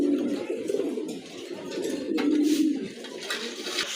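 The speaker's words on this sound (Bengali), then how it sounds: "বোম্বাই কবুতর, অনেক বড় সাইজের কবুতর" Large Bombay pigeons coo in low, throaty pulses, several birds close by in a steady run with a faint rustle behind, no talk.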